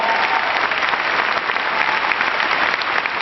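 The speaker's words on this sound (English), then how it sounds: "Please give them a big round of applause" A town hall crowd at the University of New Hampshire gives a big round of applause, a steady, loud, dense roar of many hands clapping without any voices.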